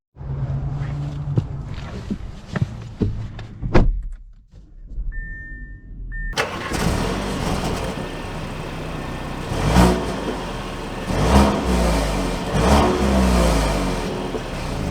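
A 2023 Audi Q5 S Line goes from a few quiet cabin clicks and a brief chime to steady engine hum, with rising revs and road roar as it drives and accelerates.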